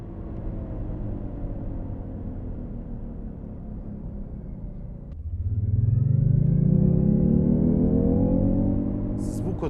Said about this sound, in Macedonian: Се слушаат само пневматиците кои газат на асфалтот